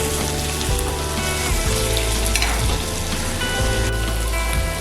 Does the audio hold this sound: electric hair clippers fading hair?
no